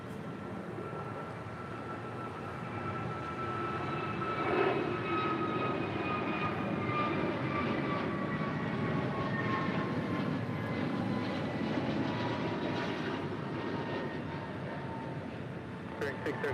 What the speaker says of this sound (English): Alaska Airlines Flight 440 heading to Cancun, Mexico on an A321neo